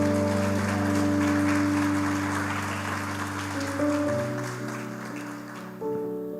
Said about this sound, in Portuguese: Aplauda o Senhor Jesus bem forte